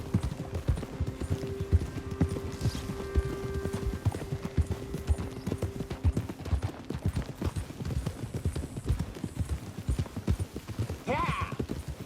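Horse hooves clip-clopping in steady rhythm in Red Dead Redemption 2, mid-distance and moderate, with a short whinny near the end and faint game ambience underneath.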